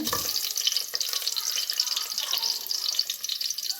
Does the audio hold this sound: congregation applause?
no